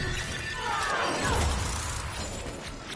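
Glass shattering from the Warframe character Gara's ability in combat, a bright crystalline crash that sweeps and sprays over about three seconds, loud and alone without talk.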